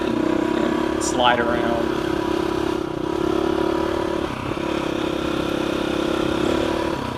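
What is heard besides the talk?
motorcycle engine revving on a mountain trail ride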